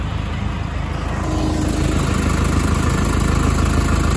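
A lawn mower engine runs steadily outdoors in the evening, a loud, close, continuous mid-pitched drone that holds without a break.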